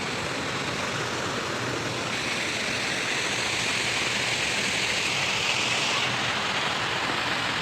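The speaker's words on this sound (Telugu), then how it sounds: "కొద్దిగా ఇక్కడ వాటర్ ఫాల్ లాగా స్మాల్ చిన్నది" A small waterfall in a city park gives an unbroken, even rush of flowing water, fairly loud and alone, with no voices.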